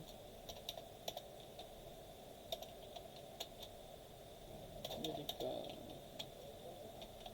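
A title is typed on a computer keyboard into an Adobe Stock upload form: quiet, irregular keystroke clicks in short bursts, with a low voice faintly present in the background.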